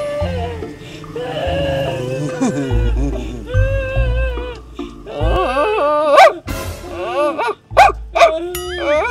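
Several dogs bark and yip in irregular bursts, some close and loud, with a few whimpering, high-pitched cries mixed in, over steady background noise.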